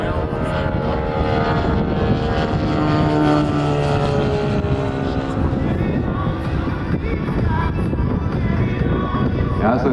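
A large model airplane in a bright green paint scheme flies overhead, its engine droning steadily and rising as the throttle is pushed back in, with someone commentating over it throughout.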